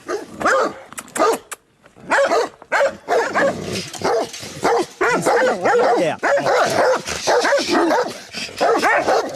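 Several dogs bark behind a gate in a rapid, overlapping volley of loud, close barks and yips that keep going almost without pause for several seconds.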